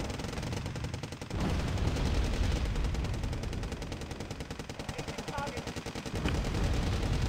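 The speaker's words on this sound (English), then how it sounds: "the machine guns should be able to finish them off there" Sustained machine gun fire in the Wargame: Red Dragon real-time strategy battle, a dense, continuous rattle of rapid rounds mixed with battlefield rumble, holding steady with brief swells in intensity.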